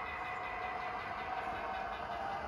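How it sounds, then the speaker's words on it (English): Model diesel locomotive engine running at a raised speed step, a faint, steady droning hum with a constant mechanical buzz and no talking. "as you can hear, the engine noise increases."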